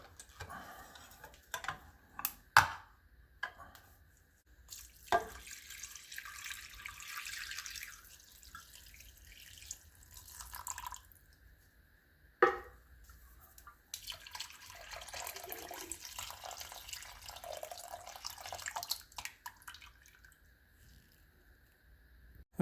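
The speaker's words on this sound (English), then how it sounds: "now we're going to add 2 cans of beef broth" Canned beef broth pouring into a slow cooker for oxtails, a soft liquid splash and trickle that comes in uneven bursts with short gaps and a few sharp knocks from the can, fairly quiet, with no talk.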